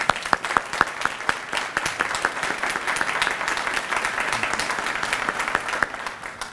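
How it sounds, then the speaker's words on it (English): A crowd at a college presidential inauguration ceremony gives a round of applause, with steady, moderately loud clapping and a few sharp individual claps standing out near the front throughout. "Round of applause."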